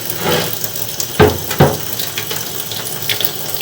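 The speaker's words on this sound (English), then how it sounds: "So we'll run some water" Running water rushes through a drain pipe at a house, heard close, with a continuous hiss and a couple of louder gurgling surges partway through.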